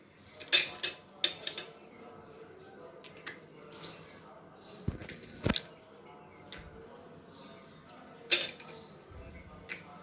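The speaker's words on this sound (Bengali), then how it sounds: "এখন এখানে যে আইসক্রিমের ছাঁচের ঢাকনাগুলো আছে এগুলো দিয়ে আমি ঢেকে দেবো এক এক করে সবগুলোই" Plastic lids pressed onto ice cream molds one at a time, giving sharp separate clicks and taps spaced across a quiet kitchen, with faint background noise between them.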